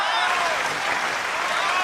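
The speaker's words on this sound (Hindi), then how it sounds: "भाई तालियां कम थी।" Applause from the audience at an Urdu poetry recital, a steady wash of clapping across the short stretch with voices mixed in.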